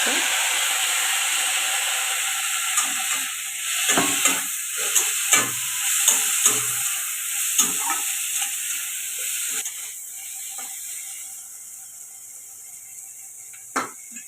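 Tomatoes hit hot oil in a pan for a loud, close sizzle and hiss that fades gradually, broken by scattered scrapes and clinks of stirring before a final knock.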